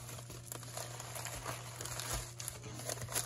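A mail package is slit open and unwrapped, with soft, close crinkling and rustling of packaging that stays quiet and continuous over a faint steady hum.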